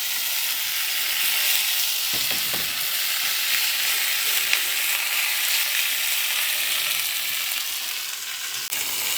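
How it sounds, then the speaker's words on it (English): Lamb chops frying in a pan on low heat give a steady, close hiss of sizzling fat, with a few soft clinks and stirring sounds partway through. "they're sizzling away on a low heat at first"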